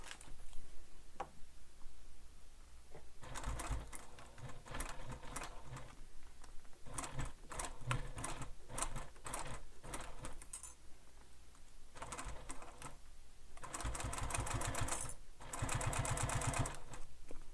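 Sewing machine stitching around a Bethany Beach bag while an awl holds the layers in place: bursts of rapid, even mechanical needle clatter, loud and close, start and stop repeatedly with brief pauses between runs.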